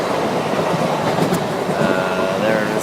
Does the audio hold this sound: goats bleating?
no